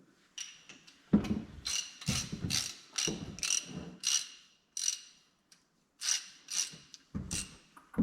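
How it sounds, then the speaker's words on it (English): A hand ratchet makes quick bursts of clicking as it tightens the mounting bolts of a Backrack headache rack on a 2017 GMC Sierra 2500HD pickup. The close clicks come in uneven runs with short pauses between them. "I'm going to go around and tighten all the bolts, get it tightened up"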